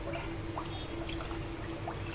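Water being poured into a cooking pot of rice and lentils for khichdi, a soft, steady trickle with faint drips, quiet and close.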